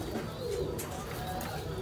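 Sialkoti rooftop pigeons coo softly in a brief, faint burst of low throaty calls against steady background noise.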